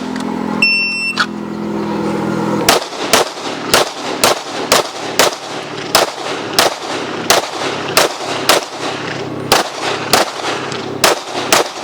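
Pistol shots fired during a USPSA designated target shooting drill at an outdoor range, about eighteen sharp loud reports in a fast, slightly uneven string after a short beep, close by with no talk.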